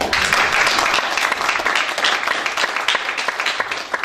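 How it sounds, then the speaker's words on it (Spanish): A church congregation breaks into loud, sustained applause during a Spanish-language sermon, a thick continuous roar of many hands that stays strong throughout with only small swells. "Vamos a también darle bienvenida a nuestro Señor Padre Celestial, que siempre está con nosotros en nuestros corazones, con un fuerte aplauso."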